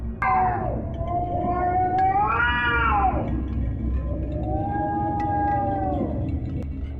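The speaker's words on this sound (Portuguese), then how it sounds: "Imagine o miado de um gato mais distorcido e robótico." Long, warbling meow-like cries with a harsh, metallic, robotic edge glide up and down, three drawn-out calls over a low, rumbling background.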